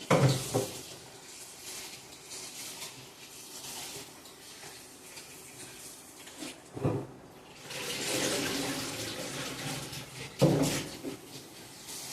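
Water runs from a fridge's water dispenser at home, a steady splashing flow with a louder burst near the middle and another toward the end, with no talking.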